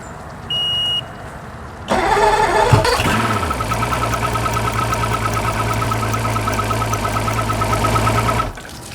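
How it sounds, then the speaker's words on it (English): An outboard boat engine, treated with Seafoam fuel cleaner and hooked to a water supply, cranks briefly then catches and settles into a steady, loud, close idle with a faint beep at the start. "I'm going to start the engine back up to let it run for 5 minutes"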